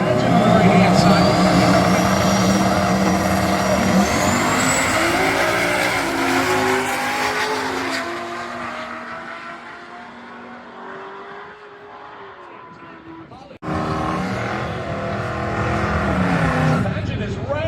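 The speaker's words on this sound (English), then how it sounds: "Here comes the 1985 Chevy wagon of Chris Legend on the right-hand side." A 1985 Chevy wagon drag racing at Tulsa Raceway, a loud sustained engine roar that climbs through gears and fades as the car pulls away, then another burst of engine noise as a commentator talks over it.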